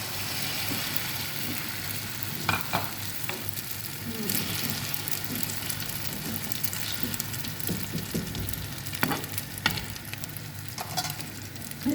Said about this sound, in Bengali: এই তাওয়ার মধ্যে আমি একটু তেল দিয়ে দেবো